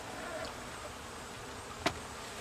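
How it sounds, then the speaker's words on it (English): Honey bees hum steadily during an end-of-summer hive inspection, a faint continuous drone with one brief knock partway through. "there's going to be bees on there"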